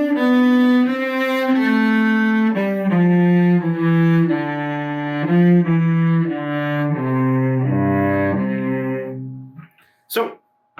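A cello plays the top line of a simple first-position duet passage, a clear sequence of sustained bowed notes stepping down in pitch, close and alone, ending with a couple of faint knocks.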